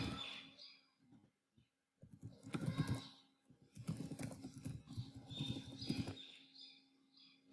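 Bursts of quick, close keystrokes on a computer keyboard, tapping in short irregular runs separated by brief pauses.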